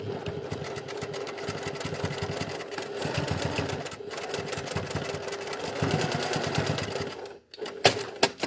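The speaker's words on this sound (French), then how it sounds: "Je fais une piqûre de maintien." A sewing machine runs a tacking seam through layered fabric for a folding toiletry bag, its needle pulsing in a fast steady rattle up close, then stopping with a few clicks at the end.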